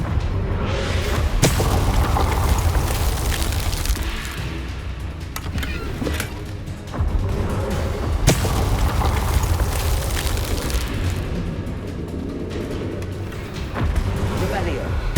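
Confringo fire spell explosions in the video game Hogwarts Legacy, during a dragon encounter: several sharp booming blasts burst over a dense, continuous rumble of game action, fairly loud throughout.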